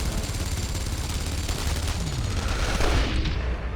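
Dense, continuous rattle of rapid gunfire with heavy low booms, like an intense firefight in the video game Enemy Front, steady and loud throughout with no voices.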